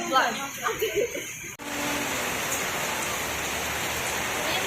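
Steady rain with wind pours down outdoors around a boarding-house hangout, a dense continuous hiss that takes over after a few seconds of close chatter and laughter at the start.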